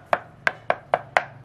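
A cleaver chops pork on a board for Vietnamese blood pudding (tiết canh), five sharp thuds in a quick, slightly uneven rhythm, close by.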